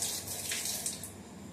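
Tap water runs steadily and close by while something is rinsed in a kitchen during Maggi noodle preparation, a continuous hiss with no talk over it.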